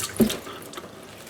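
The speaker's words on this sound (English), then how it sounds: "So I'm done rinsing it." Tap water runs briefly over freshly harvested Egyptian onions as they are rinsed, with a short splash at the start and then a quiet, steady trickle.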